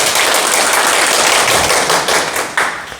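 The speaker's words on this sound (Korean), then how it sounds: "큰 박수 부탁드립니다" Loud, close applause from an audience at a Korean Sunday lecture, a dense, steady wash of clapping that stays strong throughout with a sharp accent near the end.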